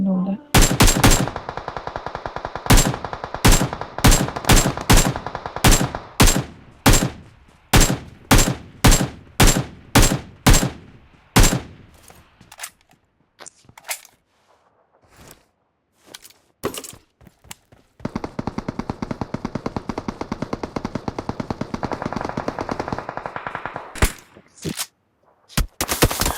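Loud bursts of automatic gunfire from the PUBG video game, first a long rapid run of evenly spaced shots, then scattered single shots and a dense sustained volley near the end.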